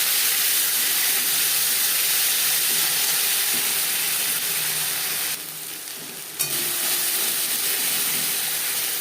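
Ginger and green chili paste fries in hot oil with bay leaf and five-spice seeds, a loud continuous hissing sizzle that dips briefly before a sharp clatter and resumes.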